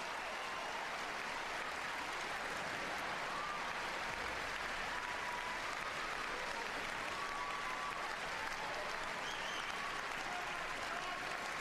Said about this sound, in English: McEnroe actually applauding his opponent's efforts.